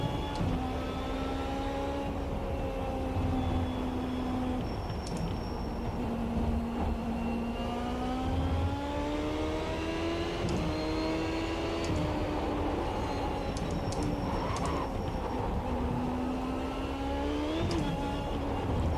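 A race car engine in the iRacing sim drones steadily at high revs, pitch rising and dipping with gear changes and throttle through a lap, continuous and loud with no talk.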